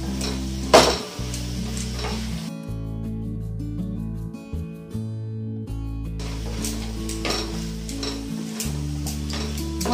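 Mixed vegetables with spices are stirred and fried in a pan in a home kitchen, with steady sizzling and scraping stir strokes plus an occasional clink of the utensil, and a continuous low hum running underneath.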